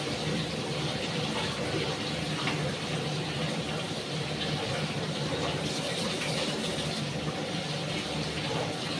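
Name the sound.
tap water washing potatoes and onions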